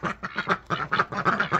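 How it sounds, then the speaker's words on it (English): White Emden goose honking up close, a rapid series of about ten loud nasal honks in quick uneven rhythm with no other sound. "She is a white Emden goose and she lays some pretty big eggs."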